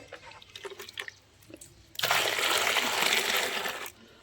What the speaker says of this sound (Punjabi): ਹੁਣ ਹੋਰ ਪਾਣੀ ਪਾ ਦਾਂਗੇ ਆਪਾਂ ਇਹਦੇ ਵਿੱਚ